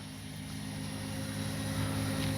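An E-flite SNJ-5 Texan RC airplane flies overhead with a steady, droning motor hum holding a constant pitch, moderately faint and heard alone without voices.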